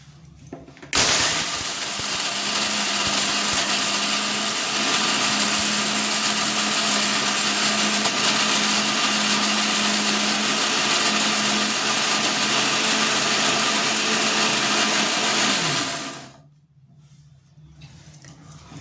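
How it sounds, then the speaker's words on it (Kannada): A mixer grinder jar runs steadily for about fifteen seconds, grinding fried ridge gourd peel with tamarind, jaggery and coriander into a coarse chutney, a loud continuous whirring motor drone that cuts off abruptly, leaving near silence. "ಈಗ ಜಾರ್ಗೆ ಹಾಕಿ ರುಬ್ಕೊಂಬಂದ್ಬಿಡ್ತೀನಿ"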